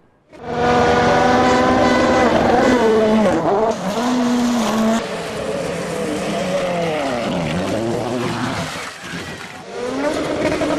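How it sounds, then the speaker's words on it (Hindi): Rally cars race at the Finland car rally, engines roaring loud and close for the whole stretch, revving up and down as they pass at speed. "फिनलैंड कार रैली इख्तिताम की जानिब रवां दवा।"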